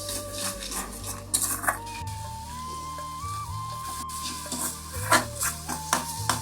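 Onion paste, crushed ginger and garlic, roasted cumin powder, salt, turmeric and Kashmiri chili powder frying in a pan, with soft sizzling under repeated scraping and stirring clatter of a utensil against the pan, plus a tonal background hum.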